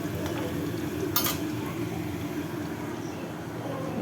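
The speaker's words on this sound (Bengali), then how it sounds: "ম্যারিনেট করে রেখেছিলাম এখন সেটা ভাজছি" Marinated chicken pakora frying in hot oil gives a steady, close sizzle that runs all the way through, with a short clink of a utensil partway in.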